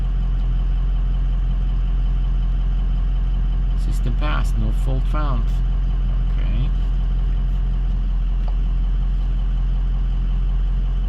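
The 6.0 Powerstroke diesel in a 2004 Ford F250 idles with a constant low drone and a steady hum beneath it, while someone speaks briefly over the running engine.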